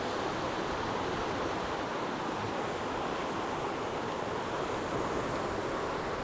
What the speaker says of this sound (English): this is the Spokane River